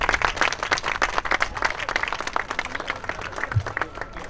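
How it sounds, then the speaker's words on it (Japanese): Festival crowd applauding the Osaki Shiokaze taiko drum troupe after their performance, a dense steady patter of many hands clapping at close range with no break. "今一度大崎潮風太鼓の皆さんに大きな大きな拍手をお送りください"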